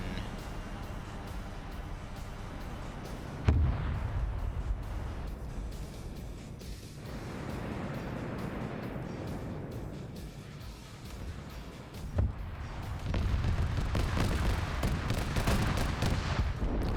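Gunfire and explosions in the military video game Arma 3, a continuous rumbling battle din with a couple of sharp heavy blasts and a dense wash of distant shooting throughout.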